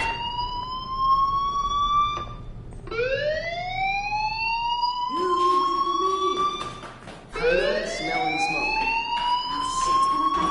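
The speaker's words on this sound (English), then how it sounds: "Hey, do you hear that fire alarm?" A school fire alarm in the game Life is Strange Remastered wails continuously in rising, siren-like sweeps that restart every few seconds, loud and close, with no talking over it.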